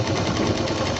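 A sewing machine runs steadily while stitching the pocket of a diaper bag, giving a fast, even mechanical whirr that stays close and unbroken for the whole short moment.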